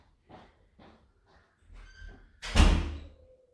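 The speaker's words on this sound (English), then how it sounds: "Just going to close this door." A door swings shut with a single firm thud and slam near the end, after a few soft shuffling sounds, indoors and close by.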